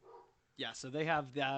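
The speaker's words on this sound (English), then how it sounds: "Sorry if you can hear my dog bark in the background." Basset hound barking in the background: a few distinct barks and yips following a man's brief speech, close and fairly clear.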